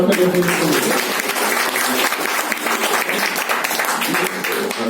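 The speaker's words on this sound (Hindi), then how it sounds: "एक बार जोरदार तालियां दें" An audience at a sales training session in a hotel hall breaks into loud, continuous applause, close and full throughout, briefly dipping and then holding steady to the end.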